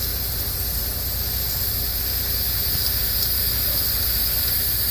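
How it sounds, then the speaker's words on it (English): A pressure cooker releases a loud, continuous hiss of steam rushing out under pressure, steady and unbroken, with a low rumble underneath. "So what it's doing is it's releasing steam."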